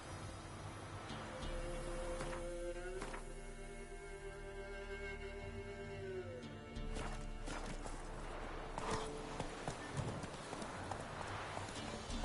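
Roach, the horse in The Witcher 3, trotting with a run of steady clip-clop hoofbeats under game ambience and music, with brief snorts and harness jingles mixed in.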